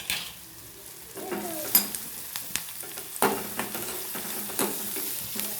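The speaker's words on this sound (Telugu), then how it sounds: "దగ్గర పెట్టి ఒకసారి ఇట్లా వేయించుకోవాలి." Food frying and being stirred in a pan, a soft sizzle under repeated scraping and clinking strokes of a spatula against the metal, close by.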